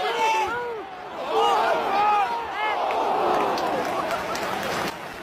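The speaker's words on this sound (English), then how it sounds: "So everyone's like cheering and chanting" Football crowd cheering and chanting before Hull vs Burnley at the MKM Stadium, a dense babble of many voices rising and falling, with a person speaking close by over the crowd.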